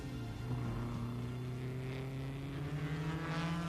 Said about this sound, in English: And then Harry Schell, the Franco-American, chasing the leaders on lap 1500cc Cooper Formula 2, right in his wheel tracks.